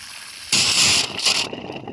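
A garden hose gushes water into a mud puddle made for pastured pigs, a loud, hissing splash that starts abruptly and runs steadily for about a second before easing off.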